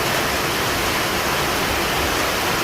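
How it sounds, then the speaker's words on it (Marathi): A heavy downpour in Nashik's CIDCO area sends water flowing along the street, a loud steady roar of rain and running water with no voices. "भरपूर पाऊस पडत आहे आणि रस्त्यावरून पाणी सुद्धा वाहायला लागलेले दिसत आहे"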